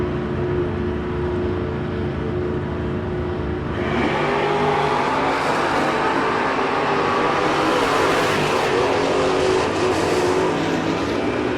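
A Firebird drag race car at a Door Wars drag racing event, its engine burbling steadily at the line, then a louder surge of revving at about four seconds that builds into a loud, sustained roar with broadband crowd and track noise.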